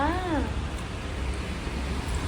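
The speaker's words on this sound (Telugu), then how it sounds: "బయట వర్షం ఎలా పడుతుందంటే మేము మేము వచ్చేటప్పుడు అంత లేదు కానీ వచ్చాక ఎంత గట్టిగా పడుతుందో" Heavy rain falls outside in a steady, dense hiss that covers the whole stretch, with a brief tonal whine near the start.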